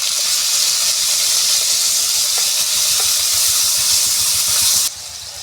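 Ground tomato paste hits a hot pan with oil and whole spices for a cauliflower and potato curry, giving a steady, loud sizzle and hiss that runs unbroken before dropping off abruptly near the end.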